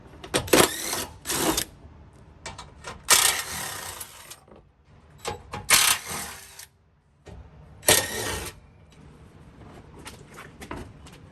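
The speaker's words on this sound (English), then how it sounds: "I'm gonna take off the 4 bolts on the underside with a 12mm socket and my small DeWalt impact" A small DeWalt impact driver with a 12mm socket removing underside bolts from the rear bumper of a Lexus LX470, several loud, close, rattling hammering bursts separated by short pauses.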